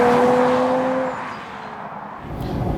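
The 5.9-litre naturally aspirated all-aluminium V12 engine of an Aston Martin DB7 roars loudly nearby, its steady tone easing off and then building again as it revs.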